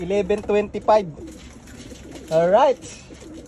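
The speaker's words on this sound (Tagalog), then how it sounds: "Ayan na, nagdadatingan na yung mga ibon mga lodi." Racing pigeons arrive at a loft after a long race, with soft cooing and bird calls heard close by, mixed with someone talking over them.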